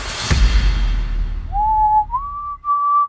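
A short whistled melody, a few sustained, clear notes rising in steps, following a brief thump and low rumble at the start.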